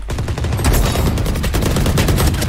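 Rapid, loud automatic gunfire rattles without pause in Valorant, close and dense bursts filling the whole stretch.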